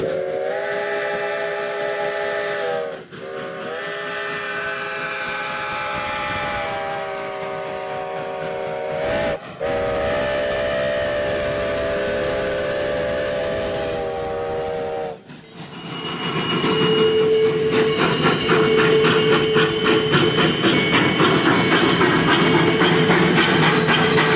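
V&T steam locomotive No. 29 rounds a bend into Gold Hill, its whistle sounding in long sustained blasts broken by short gaps, then giving way to the loud chuffing and rumble of the train passing close.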